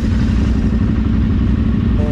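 A KTM 990 motorcycle that will not start, a loud, steady low mechanical churning close by as it cranks without catching, lasting the whole stretch.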